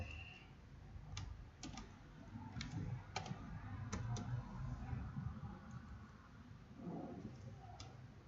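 Typing on a computer keyboard, sparse sharp key clicks spaced irregularly over a low background hum, fairly quiet and close.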